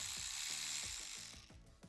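A ratchet wrench clicks rapidly and steadily, close and clear, as it undoes a 10 mm nut on a car battery terminal.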